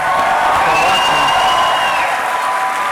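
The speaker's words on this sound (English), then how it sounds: "Let's hear it from the crowd" Debate audience at Marquette University for a Wisconsin Republican gubernatorial primary debate, applauding and cheering loudly in a steady, dense wash from start to finish.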